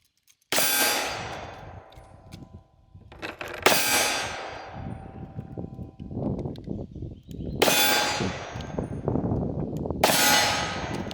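An FK BRNO PSD pistol fires on an outdoor range, sending four loud, well-spaced shots whose impacts set steel targets ringing with bright, lingering clangs between the blasts.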